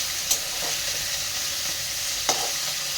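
Fish frying together with brinjal and jute leaves in oil, a constant hissing sizzle close up, broken by two brief utensil clinks, with no talking.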